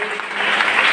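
An audience applauds for teachers at a college gratitude event, a dense, loud burst of clapping that fills the full second.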